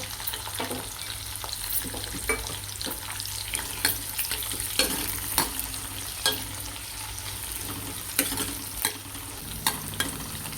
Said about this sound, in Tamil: வெங்காயம் பூண்டு லேசாக வதங்கிடுச்சு